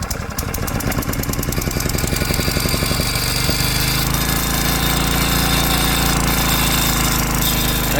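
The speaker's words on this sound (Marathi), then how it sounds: "पण आज एका किकमध्ये पंप चालू झाला" A kick-started engine on a spray pump for a mango orchard runs loud and close, chugging hard at first and then settling into a steady, even idle.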